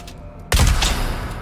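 Gunfire in Dune Awakening: after a quiet moment, a sudden loud burst of shots hits with a heavy boom and rolling tail that fades over the last second.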